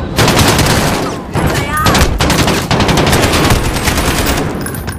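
Dense, rapid automatic gunfire from Call of Duty: Modern Warfare plays as loud continuous bursts. The fire pauses briefly between volleys, and a faint voice is heard beneath it.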